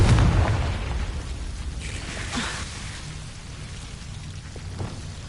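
A Confringo blasting spell from Hogwarts Legacy lets out a loud, rumbling burst at the start, then fades into a long, hissing, crackling tail.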